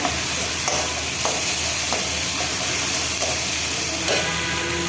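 Shing fish curry with tomato cooked in a pan, with a steady close sizzle and frying hiss and a few soft scraping stirs at regular intervals. Nobody speaks.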